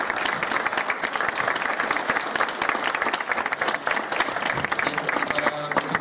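A lecture audience gives a sustained round of applause for a visiting speaker at a keynote conference, many hands clapping steadily and evenly throughout, full and close with no pauses.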